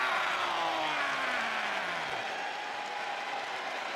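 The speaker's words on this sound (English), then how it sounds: "Clap for your world-famous four-time champs and feel" Arena crowd applause and cheering in the WWE 2K25 wrestling video game, a steady, dense roar that holds throughout while a faint tone glides downward beneath it.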